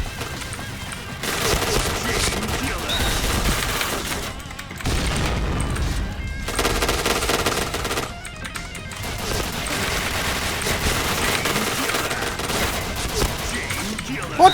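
Rapid gunfire from the online shooter Point Blank rattles almost nonstop, loud and dense bursts with brief pauses, under a steady bed of game sound and some background chatter.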